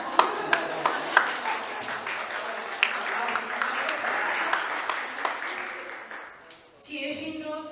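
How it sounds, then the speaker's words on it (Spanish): An audience at a church conference applauds in a hall, steady clapping with a few sharper claps standing out, fading away before a voice speaks at the end. "yo sé que quieren aplaudir"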